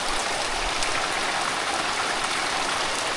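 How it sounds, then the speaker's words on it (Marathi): Heavy monsoon downpour in Konkan, a dense, loud, unbroken hiss of rain pouring steadily on surfaces nearby, with no pauses or voices. "एकदम मुसळधार पाऊस आहे यावर्षी."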